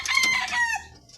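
A young rooster of a Silton cross Golden Boy line, about five months old, crows once close by, a single bright, strained call that trails off near the end.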